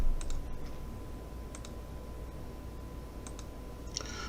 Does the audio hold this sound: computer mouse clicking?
yes